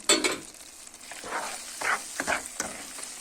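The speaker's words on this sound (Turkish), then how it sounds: "Bu cevizlerimi de döküyorum." Crushed walnuts pour into a pan of hot halva with a steady sizzle and stirring scrapes, broken by a few soft rattling bursts of nuts landing in the mixture. No one speaks.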